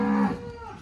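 A cow on a farm lets out one short, close moo that fades quickly, with no talking over it.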